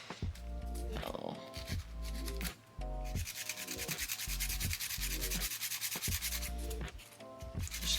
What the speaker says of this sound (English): just try not to go all ham with your filing